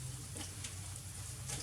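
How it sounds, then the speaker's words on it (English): Sesame-coated cauliflower, just pulled hot from the oven, sizzles with a faint, steady crackle over a low background hum. "You can hear it sizzling."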